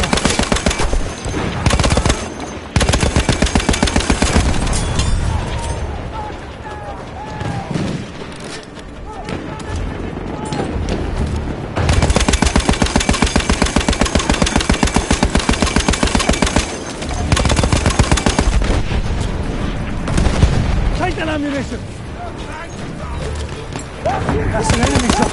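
Dense video-game firefight with enemy shotgun blasts among rapid automatic fire and booms, loud and nearly continuous, with voices talking over the battle.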